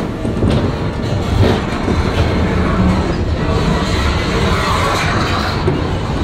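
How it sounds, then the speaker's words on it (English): A roller coaster train at Magic Kingdom, Walt Disney World, rumbles along its track with a continuous loud clatter and rattle, wind and faint crowd noise mixed into the steady roar. "Ready to ride the wildest coaster in the wilderness?"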